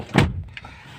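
The door of an older three-ring Toyota Corolla swings shut with a single solid, close thump, then a faint light click as it settles, with no talk.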